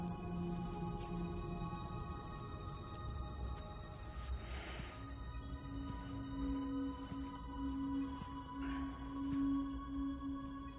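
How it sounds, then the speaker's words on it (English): Rain falls in the video game Death Stranding 2 as a soft, steady patter that stays quiet and even throughout, with faint tonal ambient sounds beneath it and no talking. "Those raindrops are falling on my head."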